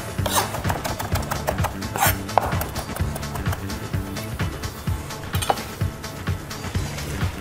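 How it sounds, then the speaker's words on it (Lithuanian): Knife chopping food on a board in a kitchen: steady, rapid rhythmic cuts, close and fairly loud, with light clinks of pots and utensils. "Ir pradam pjaustyti."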